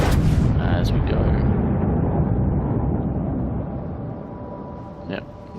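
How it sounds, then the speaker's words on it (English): The main guns of the battleship Roma firing in World of Warships: a loud, deep boom opens the clip, followed by a long rumbling roar that slowly fades, with a faint sharp report near the end. "kiting away and firing as we go"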